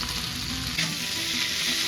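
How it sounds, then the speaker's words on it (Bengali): Flat beans stirred in a hot pan with turmeric and salt, a continuous close sizzle broken by scraping and stirring strokes of a utensil, no talking. "এবার সিমটা একটু হালকা নেড়ে নিয়েছে, ভাজা না, জাস্ট নেড়ে নিয়ে"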